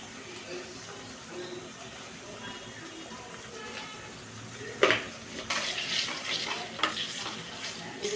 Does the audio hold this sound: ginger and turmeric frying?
yes